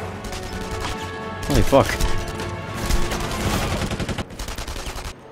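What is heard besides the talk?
enemy gunfire in the video game Enemy Front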